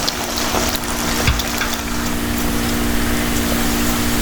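Plantain pieces deep frying in hot oil for Kerala-style crispy chips, a steady, dense sizzle and bubbling hiss close by with a low hum underneath, continuous throughout and with no voices.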